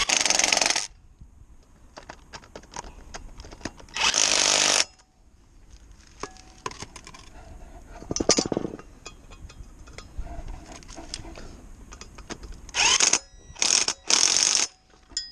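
Screws on the ABS ring of a Mitsubishi Triton brake disc being tightened with a ratcheting tool, bursts of loud whirring separated by quieter clicks and knocks, up close with no talk.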